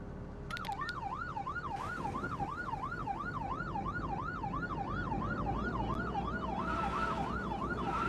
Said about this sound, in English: Oh, come on, sirens. Now you want them.